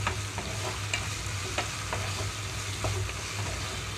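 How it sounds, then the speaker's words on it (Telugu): Coriander and fenugreek seeds fry with a steady sizzle in a pan while a spoon stirs them, the scrapes coming as soft, regular taps over continuous crackling, close and moderately loud with no talking. "ఇవి వేగేటప్పుడే ఒక స్పూన్ వరకు ధనియాలు కూడా ఇందులోకి వేస్తున్నాను."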